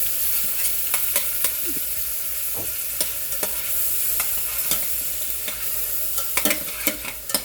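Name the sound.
semi-frozen shrimp sauteing in pan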